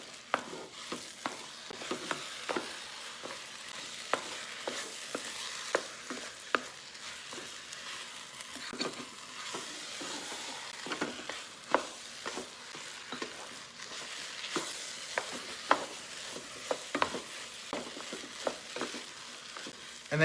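Scrambled eggs are stirred into sizzling Chinese fried rice in a pan, with a steady hiss of frying beneath repeated scraping spatula strokes that land in an irregular rhythm, close and moderately quiet.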